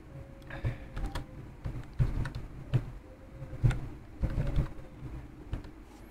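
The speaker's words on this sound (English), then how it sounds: "So I'm going to type" Keys tapped in short uneven bursts on a computer keyboard while entering a file name at the Windows command prompt, fairly close and quiet, with a faint background hum.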